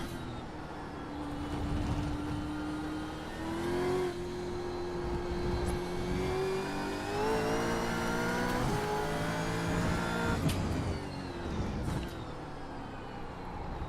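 A racing car engine in a racing game, holding a steady high drone as it runs a lap, with pitch rising and shifting through gear changes over the whole stretch, loud and continuous with no talk.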